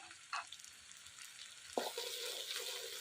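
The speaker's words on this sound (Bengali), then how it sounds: "আমি মিডিলে একটু ফাঁকা করে নিয়ে ডালটা দিয়ে দেবো। সবজিটা না বেলাম না, ডালটা এর মধ্যে ভেজে নেব।" Lentils fry alongside vegetables in a pan for a Bengali khichuri, giving a close, soft continuous sizzle broken by a few scraping stirs of the utensil.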